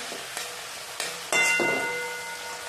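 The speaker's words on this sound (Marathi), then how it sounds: "टोमॅटो टाकायचे, तेही चांगलं परतून घ्यायचं" Tomatoes sautéing in hot oil with fried onions for Schezwan fried rice, a steady soft sizzle with occasional louder bursts as the pan is stirred, close and alone without talk.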